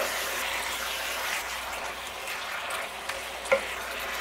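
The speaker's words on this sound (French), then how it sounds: "on va continuer de retourner le poulet et de le faire cuire jusqu'à temps que tous les morceaux soient quand même assez blancs" Chicken pieces sizzle and crackle steadily as they fry and get turned in a wok, a dense continuous hiss with a couple of sharper scrapes near the end and no talking.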